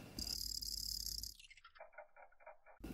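Male crickets chirp in short pulsed trills, a bright high buzz at first, then softer repeated chirps that fade into quieter pulses.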